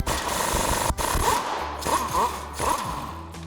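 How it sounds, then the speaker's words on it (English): A pneumatic impact wrench with a 27mm socket hammers loose the passenger-side track bar bolt on a Ram 2500 truck, loud rattling bursts repeating close up, with a brief break and no talk. "we can go ahead and use that same 27mm socket on our impact to remove our passenger side"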